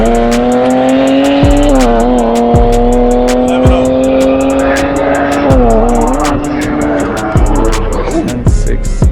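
A turbocharged BMW 335i making a second-gear drag racing pull, a loud close engine drone that rises and steps through revs, with sharp repeated clicks and pops over it.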